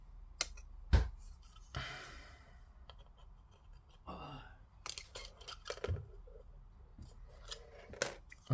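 Sharp, separate snips as plastic parts of a Revell Star Wars Millennium Falcon 1:241 scale model kit are cut off the sprue, close and crisp with quiet gaps between cuts.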